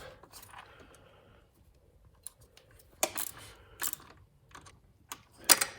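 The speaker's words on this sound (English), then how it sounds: "This was a ratchet wrench, which is kind of convenient for areas that are hard to get at." Sharp mechanical clicks in short bursts, close by, separated by quiet pauses, as a ratchet wrench is cranked a few strokes at a time while snugging a fuel injection pressure sensor on a Ford 500.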